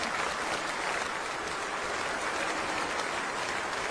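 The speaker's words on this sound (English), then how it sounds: "Everyone at this famous ground standing to applaud Stephen Smith off the ground for 215." A large cricket stadium crowd applauds steadily as a batsman leaves the field after a long innings, a dense, continuous wash of clapping from many hands at a distance, even in loudness throughout and with no talk over it.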